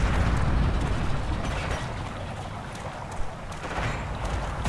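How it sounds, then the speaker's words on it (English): A bomb goes off in the World War II shooter game Forgotten Hope 2 on the Dukla Pass map, a loud rumbling blast that lingers with a dense low roar and crackle throughout. "Bomb!"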